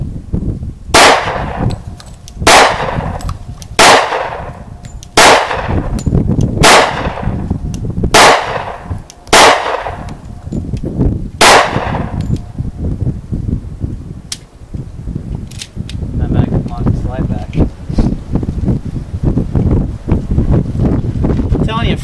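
Eight sharp, loud pistol shots from a Springfield V10 Ultra Compact 1911 in .45 ACP fire at a steady pace of roughly one every 1.3 seconds on an outdoor range, then stop, leaving wind noise and muffled background sounds.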